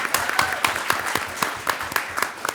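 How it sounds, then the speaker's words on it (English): An audience at a 2012 student leadership forum gives a round of applause, a roomful of clapping with several sharp, close individual claps standing out above the steady patter. "Let's give him a round of applause"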